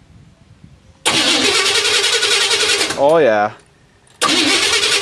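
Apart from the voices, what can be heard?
TANKenstein project vehicle engine cranking and starting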